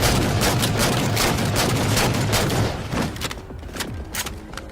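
A sticky launcher firing in a video game, a dense barrage of loud thumping shots for a few seconds that then thins to scattered weaker pops.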